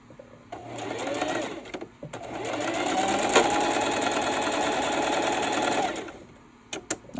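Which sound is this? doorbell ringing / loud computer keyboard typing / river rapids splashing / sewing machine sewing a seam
sewing machine sewing a seam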